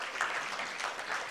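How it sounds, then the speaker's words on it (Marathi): Audience applause at a Marathi film trailer launch, a brief, faint patter of clapping heard from a distance. "त्यांच्यासाठी एकदा जोरदार टाळ्या होऊन जाऊ देत."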